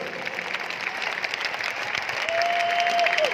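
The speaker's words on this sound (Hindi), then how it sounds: "मैं चाहूंगा अपने अपलाइन के लिए एक बार जबरदस्त ताली बजाइए" An audience at a motivational business talk breaks into loud applause, a dense wash of many hands clapping at once that builds slightly toward the end.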